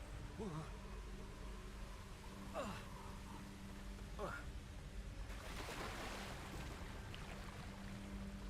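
Steady rushing roar of a waterfall in the Hogwarts Legacy video game, a broad wash that swells louder partway through, heard alongside a few brief swooping game effects and some speech.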